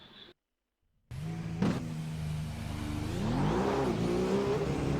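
A McLaren MP4-30 Formula One car in the racing sim iRacing fires up after a brief silence, then its engine idles and climbs into a rising, steady high-pitched rev, loud and close with no talking.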